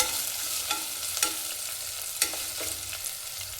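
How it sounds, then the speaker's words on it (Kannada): Onion and curry leaves fry in hot oil for a vegetable pulao, a steady close sizzle broken by a few sharp scrapes and clicks of a stirring spoon against the pan, with no voices. "ಕರಿಬೇವು ಸೇರಿಸಿ ಇದನ್ನು ಸ್ವಲ್ಪ ಚೆನ್ನಾಗಿ ಫ್ರೈ ಮಾಡ್ಕೊಳ್ಳೋಣ."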